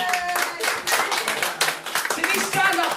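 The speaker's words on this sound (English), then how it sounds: "Give Simple Simon a round of applause." Dense, steady clapping from an audience at a Glastonbury-themed comedy show, loud and close throughout, with scattered voices mixed in.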